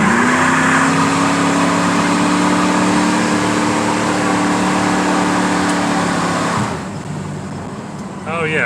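Tired original 350 engine in a 1969 Pontiac LeMans with a new HEI ignition, running steadily while driving: a loud continuous hum and drone that eases off near the end, with someone talking over it.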